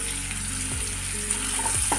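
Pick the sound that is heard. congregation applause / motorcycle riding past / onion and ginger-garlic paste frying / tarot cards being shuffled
onion and ginger-garlic paste frying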